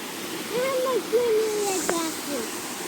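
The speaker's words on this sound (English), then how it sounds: "Say bye to the falls. Say bye to the river." Waterfall and river in Hanover, Jamaica, a steady rushing wash of falling water close by, with a person's voice running over it in long tones and a brief sharp knock partway through.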